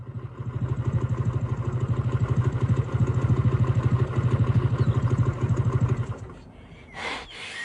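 A motorcycle engine idles nearby with a steady, throbbing putter, then cuts off near the end, followed by a brief rustle.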